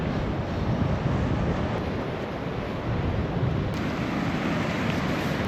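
Ocean surf breaking steadily on an Australian shore, a continuous broadband wash with wind buffeting the microphone and no voices.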